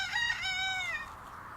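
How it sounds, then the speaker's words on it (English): A rooster crows once in the early morning, a single loud, close call that rises and then trails off, heard on its own. "Cue the cockerel."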